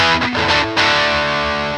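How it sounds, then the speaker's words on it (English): Distorted electric guitar on the humbucker pickup of a Gray Guitars Sustainiac Emperor plays a short burst of loud, buzzy chords with effects, close and alone, with no talking. "So if I go back to the humbucker sound, or its own humbucker."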